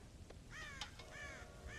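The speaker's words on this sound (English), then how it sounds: "God damn crows!" Crows caw repeatedly in Red Dead Redemption, several harsh calls in an irregular sequence over a low game ambience, moderately distant and clear.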